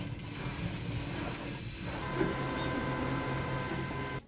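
Steady mechanical hum of an Anycubic Kobra S1 3D printer with its fans running and a filament dryer on, a continuous moderate drone with faint motor tones, no voices.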